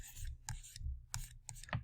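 An abbreviation written by hand in a few quick, scratchy strokes, each a short burst separated by brief pauses; quiet and close, with no talking.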